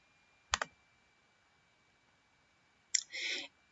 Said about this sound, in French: Je clique sur Tools.